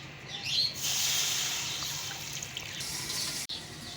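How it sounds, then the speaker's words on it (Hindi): Milk pours steadily into a non-stick pan on a medium flame, making a continuous close splashing rush that tapers off near the end, followed by a brief knock. "अब इसमें दूध डालेंगे"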